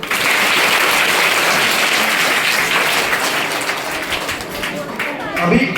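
Schoolchildren clapping together at a school health camp, a dense, loud burst of applause that keeps going steadily for several seconds and thins slightly toward the end.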